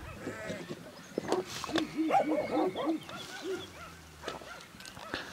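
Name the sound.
young female dog barking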